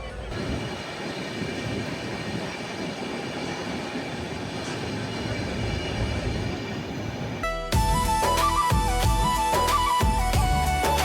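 Sleeper-class Ranthambore Express train running on the Jaipur to Kota route, a steady rumble of wheels and carriage noise throughout, with a loud, sharp shift near the end as the track sound changes and rhythmic clatter and tonal squeal take over.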